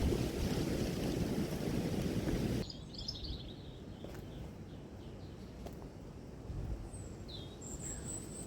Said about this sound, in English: That wind is really picking up.